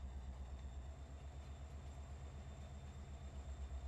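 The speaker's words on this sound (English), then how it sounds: "you'll see if you pay attention to how the locomotive moves" Locomotive rolling slowly in Farming Simulator 22, with a steady low rumbling drone and a regular rhythmic chugging pulse running throughout at a constant, moderate level, with no talk.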